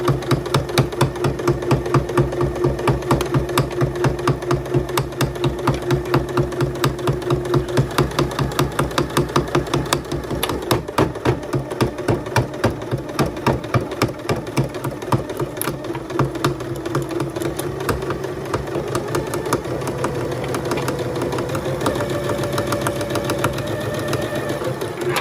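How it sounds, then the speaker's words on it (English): A sewing machine runs a seam across a triangle zipper pouch, a steady close rhythmic clatter of rapid needle strokes that continues throughout with slight shifts in pace. "start on the right side using a 3/8 inch seam allowance and stitch all the way across"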